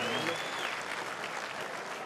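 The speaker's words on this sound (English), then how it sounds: "Ladies and gentlemen, a round of applause, firstly, for Joshua Clotty and Anthony Mundine." Crowd applause at a boxing match for Joshua Clottey and Anthony Mundine, a dense, steady wash of clapping filling the whole moment at moderate loudness.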